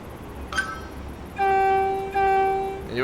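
A Class 90 locomotive in a train simulator game, departing on a Glasgow Central to Lockerbie run, sounds its horn: a short tone, then a long, loud two-tone blast that breaks briefly and resumes before fading.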